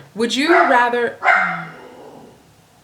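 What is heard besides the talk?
dog barking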